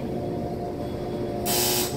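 Delaware hydraulic elevator motor in a condominium buzzing with a steady low-pitched hum and tonal drone, then a sudden louder hiss of rushing noise in the final half second.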